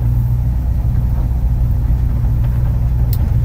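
A 1968 International Harvester pickup truck engine idles steadily nearby, a low rumbling drone with a constant even tone and no voices.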